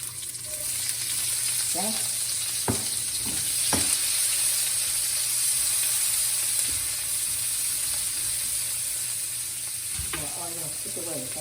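Onion and garlic sizzle steadily in hot oil during a chicken and broccoli noodle stir fry, a continuous bright frying hiss broken by a few sharp clinks and scrapes of stirring, with brief speech over it.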